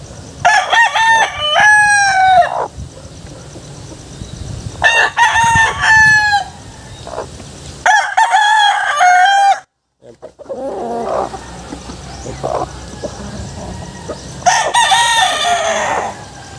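A pure John Bishop gamefowl rooster crows loudly and nearby, four separate long cock-a-doodle-doos spaced several seconds apart, with quieter farmyard background between them.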